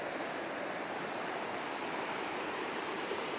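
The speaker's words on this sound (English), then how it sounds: "A lot of water coming through the river right here" Swollen river water on the East Fork San Gabriel rushes steadily in a dense, constant broadband roar, close and unbroken, with no voices.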